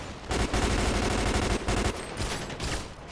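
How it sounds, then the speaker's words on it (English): Dense gunfire in a GTA 5 LSPDFR police mod shootout with a gang, overlapping rapid bursts from several weapons, loud and close at first, then thinning into scattered shots. "I'm getting shot from over here"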